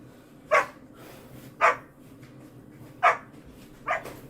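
Dogs bark four times at roughly one-second intervals, each a sharp single bark standing out over a low, quiet background with no talk.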